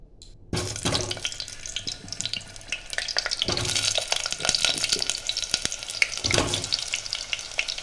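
Potatoes drop into hot oil and sizzle loudly in a pan while mutton curry is being cooked, a steady crackling fry with a few louder bursts as pieces go in and shift.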